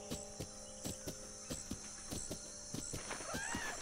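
Regular hollow hoofbeats of a horse in Breath of the Wild clop at a steady walking pace, fairly close, over a faint electronic hum with a few soft game-like tones.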